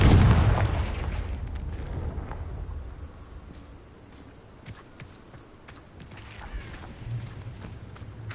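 A Confringo fire spell explosion from the video game Hogwarts Legacy opens with a single heavy boom that fades out. Light footsteps and faint scattered thuds follow at a low level.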